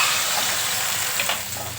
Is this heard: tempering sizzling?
yes